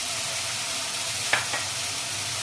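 Garlic paste frying in masala for a raw jackfruit curry, heard as a steady broadband sizzle with one or two brief scraping stirs partway through.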